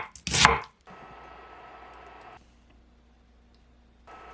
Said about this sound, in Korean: 양배추는 가늘게 채 썰어 놓을게요.